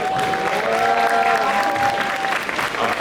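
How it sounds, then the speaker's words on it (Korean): An audience claps at a Korean traditional liquor sommelier competition finals, a moderate, continuous patter of hands over a steady sustained tone, with faint voices in the room. "박수 한번 부탁드리겠습니다."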